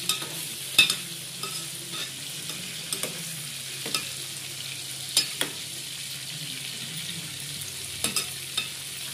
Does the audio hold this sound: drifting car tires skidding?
no